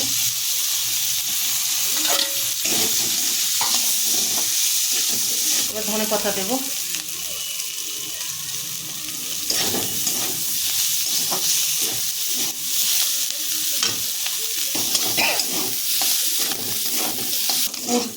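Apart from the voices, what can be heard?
frying potatoes and chicken with spices in pan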